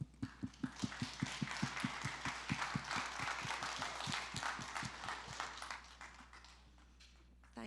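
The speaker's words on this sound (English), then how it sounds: "giving a big round of applause for our next round of speakers" At a gaming, esports and entertainment conference, an audience claps steadily for arriving speakers, with sharp near hand claps over a broad, far wash of applause that fades out toward the end.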